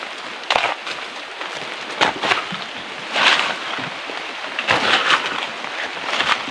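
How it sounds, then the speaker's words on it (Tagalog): Steady rain patters on a surface nearby, with occasional louder splashes and gusts rising over the constant hiss. "inabot na kami ng ulan"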